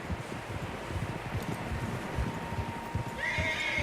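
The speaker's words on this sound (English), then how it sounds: "Horses, quite a few of them." Horses in the video game Red Dead Redemption 2 whinny and neigh over a steady bed of clopping hooves and wind, with a higher whinny rising near the end.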